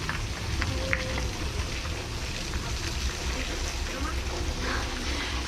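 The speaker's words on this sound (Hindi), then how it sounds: "एक्चुअली यहाँ बहुत बारिश हो रही है" Heavy monsoon rain pours steadily in the hills of Chamoli district, Uttarakhand, near Chandpur Garhi, a dense constant hiss of drops on surfaces that fills the whole clip with no break.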